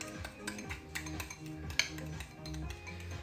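A utensil stirs and clinks against a bowl holding a cinnamon, vanilla and sugar mixture for poached pears, soft repeated scraping strokes with occasional sharp taps, fairly quiet.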